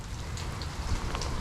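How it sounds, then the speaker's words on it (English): Heavy rain pours steadily, a dense close hiss with a low rumbling undertone and scattered drip spatters. "it is pouring down rain"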